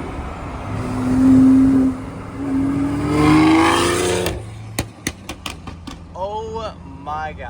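E85-fueled car engines, a diesel and a BMW, revving side by side outside: two loud swelling rev sweeps, then a string of sharp pops and cracks, with voices talking at the end.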